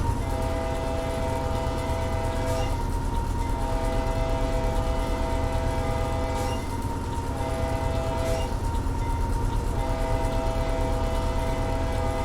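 A simulated freight train locomotive at a railroad crossing in Train Simulator, a steady loud rumble with sustained horn tones sounding in several long blasts, no talking.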